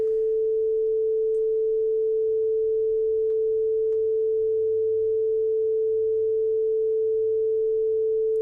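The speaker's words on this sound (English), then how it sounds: "Now introduce the masking tone." A steady pure sine masking tone used to demonstrate EQ masking, holding a single constant pitch throughout at moderate level, alone with faint low rumble beneath and no talk.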